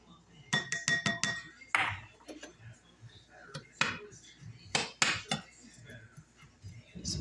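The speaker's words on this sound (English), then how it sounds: "I'm going to mix my oats, brown sugar, and flour together" Oats, brown sugar and flour are stirred together in a bowl, with quick clinking scrapes of a utensil against the bowl in bursts and pauses, quiet and close, and a person talks between the strokes.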